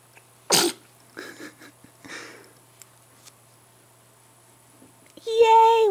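A baby sneezes once, a short sharp burst near the start, followed by soft infant vocal sounds and an adult voice rising at the end.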